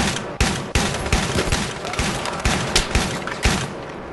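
Gunfire in Battlefield 3 during a team deathmatch on the Grand Bazaar map, with a shotgun in use: sharp, loud reports land in an irregular run of about eight shots over busy battle noise, with no talking.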